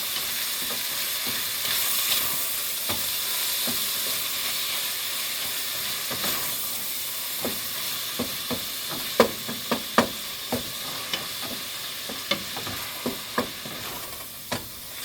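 Ground meat for meat pie filling being stirred in a sizzling pan, a steady frying hiss broken by repeated sharp scrapes of the spoon that quicken toward the end, with no talking.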